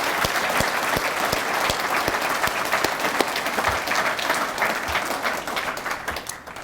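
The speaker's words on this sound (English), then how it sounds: "Please give them a round of applause" At a graduation ceremony for a recruit firefighter class, the audience breaks into sustained applause, a thick, even wash of many hands clapping with occasional louder individual claps, tapering slightly toward the end.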